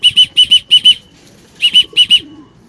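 Pigeons circling overhead and flapping their wings, heard as close, loud paired bursts of wingbeats in quick repeated groups with a brief gap in the middle.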